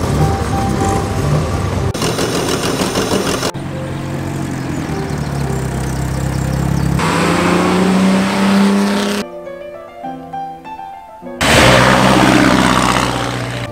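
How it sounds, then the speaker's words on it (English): A 1950s Mark 1 Jaguar saloon at a vintage speed hillclimb, its engine loud and close as it accelerates past, with the sound shifting between segments and a brief quieter gap partway through. "A Mark 1 Jaguar saloon of the 1950s."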